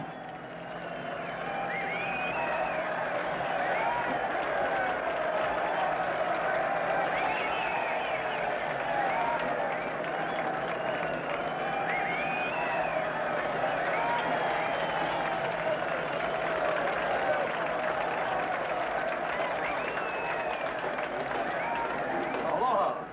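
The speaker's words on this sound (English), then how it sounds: "And look at that mob waving and cheering." A large welcoming crowd in Hawaii cheers and applauds long-lost castaways, a steady dense roar of voices and clapping holding at constant volume throughout, with faint voices calling out above it.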